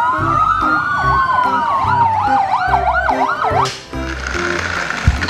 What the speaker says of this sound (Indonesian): ada mobil pemadam kebakaran membawa air